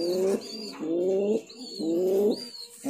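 Fancy pigeons, including Lahori birds, give three clear, close, rolling coos in a steady rhythm, each followed by a softer higher note, with no other sounds.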